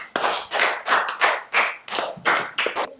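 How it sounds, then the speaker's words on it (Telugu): Children at a studio interview for Children's Day clap their hands in a steady rhythm, about eight sharp, close claps evenly spaced, with no talk over them. "Claps claps."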